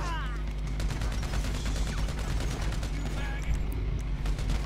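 Michael fires on police officers in the Grand Theft Auto V heist mission The Paleto Score, with dense, sustained gunfire. Bursts run continuously, loud and close, over a constant low rumble.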